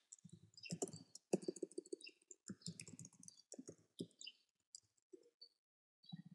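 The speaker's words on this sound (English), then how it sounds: "All you do is type your text." Typing on a computer keyboard gives a quick, uneven patter of light key clicks in short bursts with brief pauses, close and fairly quiet, and no speech over it.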